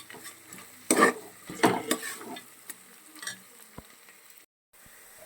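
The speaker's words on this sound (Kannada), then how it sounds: "ಇದ್ರದ್ದು ಕಂಪ್ಲೀಟ್ ಹಸಿ ವಾಸನೆ ಹೋಗೋ ತನಕನೂ ಕೂಡ ಚೆನ್ನಾಗಿ ಇದನ್ನು ಫ್ರೈ ಮಾಡ್ಕೊಬೇಕು" Ginger garlic paste frying in a pan for masala ghee rice, with a steady sizzle broken by a few loud bursts of stirring and utensil scrapes against the pan, close and clear, and no voices.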